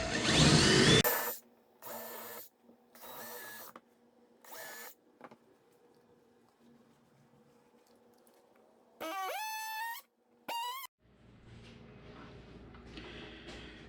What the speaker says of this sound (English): This stuff drills like butter, so just take it easy.